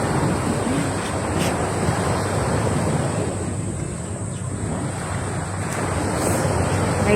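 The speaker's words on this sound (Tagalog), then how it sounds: "Dagat." Sea waves wash steadily onto a morning shore, a continuous broadband roar with wind buffeting the microphone, loud and even, with no talking.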